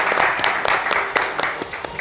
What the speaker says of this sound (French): Viens, on va l'applaudir le temps qu'elle arrive